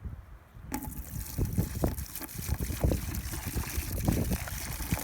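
Water poured from a container into a bucket outdoors, a steady rushing splash with gurgling texture that starts abruptly and continues throughout, close and moderately loud.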